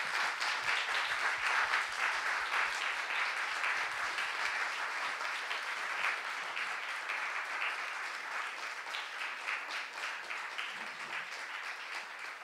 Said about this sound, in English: So if you could give our panelists a round of applause.